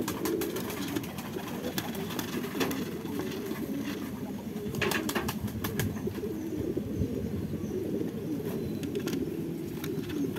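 A pigeon chick that has gone two days without food, heard as soft cooing and rustling of feathers with a few wing flaps, close and steady with no talking.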